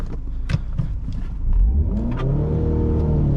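A 2017 Ford Focus RS launches hard off the line, its engine revving up in a rising whine that swells and climbs through the gears, loud and close from inside the cabin.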